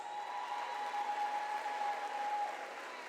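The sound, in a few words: audience applause at ceremony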